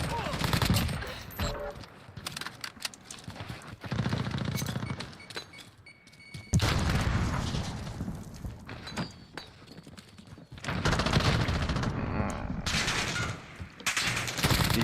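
Call of Duty gunfire heard in repeated loud bursts of rapid shots separated by short lulls, with people talking over the shooting throughout.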